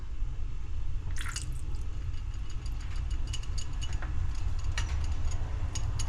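Baileys Irish cream poured into a large cooking pot gives soft wet drips and squishing splashes over a steady low rumble.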